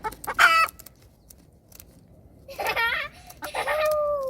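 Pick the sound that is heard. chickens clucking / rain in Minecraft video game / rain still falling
chickens clucking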